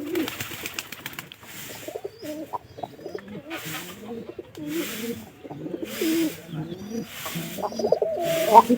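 A pair of pigeons coo close by in soft, low, rolling calls that overlap almost continuously. A faint airy hiss pulses in the background.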